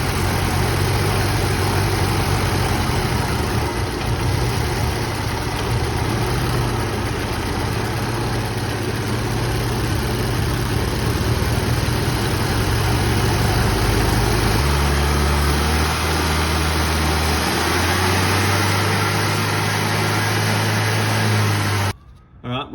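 A Golf GTI Mk5 engine holds a steady 2,000 rpm for a long stretch, a loud, even mechanical hum with a low drone that shifts slightly in pitch before cutting off abruptly at the end.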